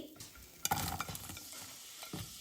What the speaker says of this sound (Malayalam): ഇത് രണ്ടും നമ്മളൊന്ന് മൂപ്പിക്കാനിടാം കേട്ടോ വഴറ്റിയെടുക്കണല്ലേ